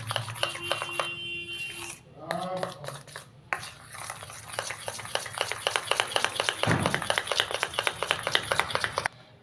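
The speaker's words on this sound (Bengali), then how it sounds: "এবার কোকো পাউডারটাকে ভালো করে মিশিয়ে নিচ্ছি ব্যাটারের সাথে।" A spoon beats cocoa powder into a flour-and-egg cake batter in a bowl, steady scraping and clinking strokes against the bowl, close and fairly loud, with brief beeps early on.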